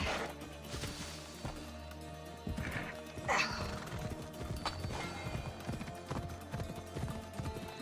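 Horse hooves clip-clop steadily in the video game Assassin's Creed Odyssey, a continuous rhythmic patter of hoofbeats mixed with game ambience and a brief whinny, with little talk.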